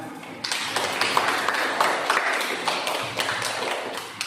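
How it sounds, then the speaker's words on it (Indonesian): Students in a teaching-practice class clap together, a burst of scattered hand claps beginning suddenly and continuing unevenly before tapering slightly. "Tepuk tangan."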